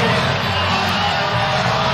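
Basketball crowd in an arena at a women's college game reacting to a foul call, a loud sustained mass of voices rumbling and jeering without pause for two seconds.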